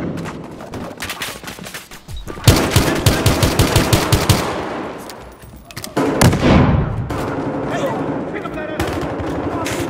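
Bursts of automatic rifle fire in Battlefield Hardline, with an M16 among the weapons, come in rapid rattling volleys loud and close, punctuated by single shots. Game voices call out between and under the firing.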